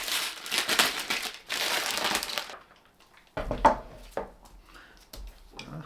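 Beef ribs pulled out of plastic packaging, with loud rustling crinkles for the first few seconds. Softer handling thumps, knocks and scattered crackles follow, close up, and no one speaks.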